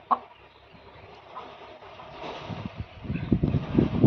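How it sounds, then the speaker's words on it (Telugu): A young Rasangi Rich Vatam breed hen clucks at a poultry farm in Bhimavaram, giving soft, irregular low clucks that grow louder and more frequent toward the end. "ఇది కన్నెపెట్ట అండి, రసంగి కన్నెపెట్ట."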